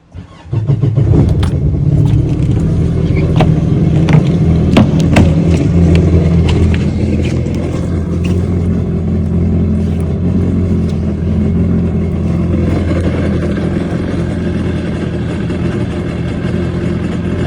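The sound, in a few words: jet boat engine running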